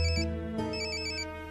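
A cell phone ringtone plays a short electronic melody with bright, steady tones, clear and close in a quiet room, lasting just over a second.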